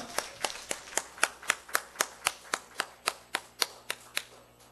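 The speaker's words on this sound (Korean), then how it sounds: "우리 하나님께 영광의 박수 같이 올려드리겠습니다." Congregation clapping during a church service, heard as a steady run of distinct, crisp claps in an even rhythm, fairly close and moderately quiet, with no talking over them.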